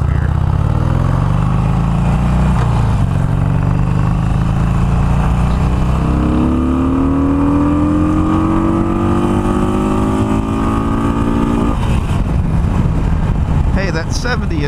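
A Harley-Davidson Iron 883 with an air box mod and flashed ECM revs hard on an open road, its loud engine note climbing steadily in pitch, dropping at a gear change, then pulling again under constant wind rush.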